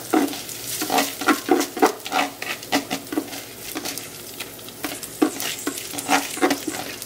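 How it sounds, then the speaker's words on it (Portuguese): Rice sizzles and fries in a hot pan while a spoon stirs it in repeated scraping strokes, a steady crackling bed with rhythmic stir bursts close up and no talk. "E agora aqui a gente vai dar uma boa fritada."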